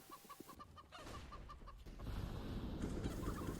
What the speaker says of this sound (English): Those chickens are very, very loud.